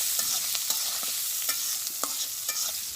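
A spoon stirs a pan of sizzling oil in a village kitchen, steady broadband frying hiss with scraping strokes scattered at irregular intervals, close and fairly loud.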